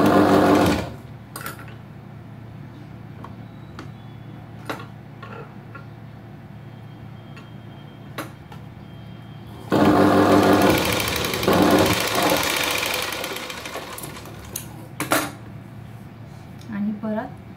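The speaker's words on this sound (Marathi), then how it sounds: "मी शिलाई मारणार आहे." A sewing machine stitches a princess-cut blouse. A loud whirring run at the start fades into a quieter stretch with scattered ticks, then a second strong burst of stitching around the middle that slowly tapers off.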